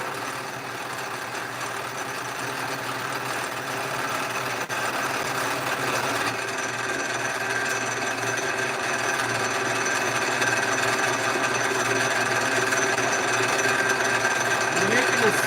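A milling machine cuts a 6-inch drill bit for a water well, producing a steady, continuous metallic grinding whir with a sustained whine, unbroken and at an even level throughout.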